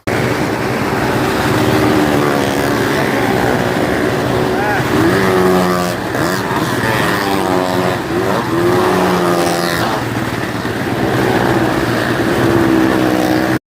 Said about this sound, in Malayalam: അവർ ബൈക്ക് സ്റ്റാർട്ട് ചെയ്ത് പോകാൻ തുടങ്ങിട്ടോ